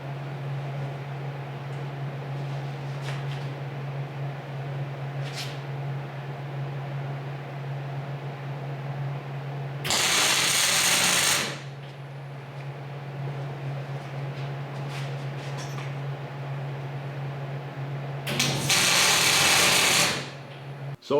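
A steady mechanical hum runs under two loud, close bursts of power tool noise, each lasting one to two seconds, as a shock absorber is taken off a long travel suspension.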